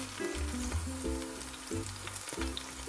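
Eggplant fries in a shallow layer of ordinary cooking oil for kare-kare, a steady close sizzle and crackle with repeated utensil stirring and scraping throughout.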